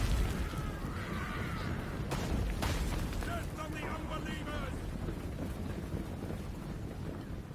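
Cannons fire in the fantasy battle game Total War: Warhammer, with a couple of sharp booms early on and then steady, rumbling battlefield noise and wind-like roar that carries on throughout.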